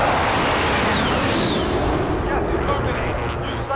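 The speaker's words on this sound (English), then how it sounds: "Call for fire. This is Striker 3-1. Good copy. Strike inbound." Artillery strike landing in Call of Duty: Modern Warfare, a loud, sustained roaring rumble of explosions that fills the whole stretch, with a voice talking over it.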